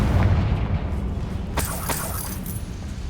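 A Confringo fire spell bursts in Hogwarts Legacy, a sharp explosive blast about halfway through, followed by a second crackling pop and a short fading rumble over a low, steady background drone.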